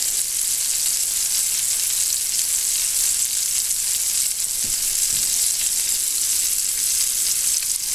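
Venison buck balls searing in a hot pan, giving a loud, steady, crackling sizzle that holds evenly throughout with no talk.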